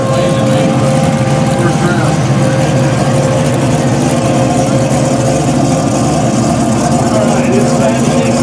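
Drag race cars launching at a dragway, turbo against nitrous, with a loud, steady engine roar that holds constant and drowns everything else for the whole stretch.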